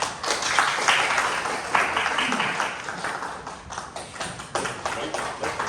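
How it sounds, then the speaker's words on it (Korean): An audience at a lecture on AI adoption in Busan's water supply system claps to welcome a speaker, giving moderate, steady applause that thins out toward the end. "큰 박수로 환영해 주시기 바랍니다"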